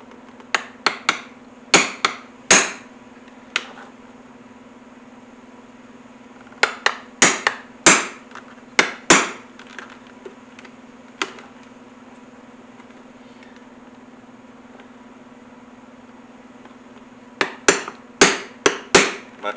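Hammer blows drive a hole punch through an ammo bag strap, sharp close strikes in quick bursts of four to six, separated by quiet gaps and a steady low hum.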